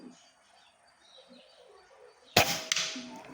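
A Mini Predator air rifle fires a single sharp crack at a one-inch plate target outdoors, followed moments later by a faint metallic ping of the hit, with quiet ambience and birdsong before the shot.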